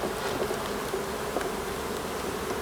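Honeybees swarming around an opened hive during a spring inspection, a dense continuous drone of buzzing wings, loud and close and steady throughout, with no voices.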